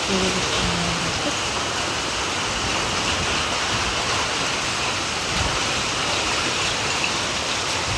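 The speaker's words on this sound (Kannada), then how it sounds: "ಸ್ಟಾರ್ಟೇ ಆಗಿಬಿಟ್ಟು ಫ್ರೆಂಡ್ಸ್ ಮಳೆ. ತುಂಬಾ ಮಳೆ ನೋಡಿ ಫ್ರೆಂಡ್ಸ್." Heavy rain pours steadily, a dense, continuous hiss of water that stays loud and unbroken from start to finish.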